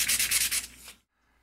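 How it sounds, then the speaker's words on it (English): Brass pen tubes rubbed on sandpaper for a pen build give a close, steady scratchy rasp in several quick strokes that stop abruptly, leaving silence. "does sanding these tubes like this actually help?"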